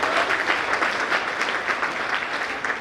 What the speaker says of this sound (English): please give a huge round of applause for the Ganesh Banta performance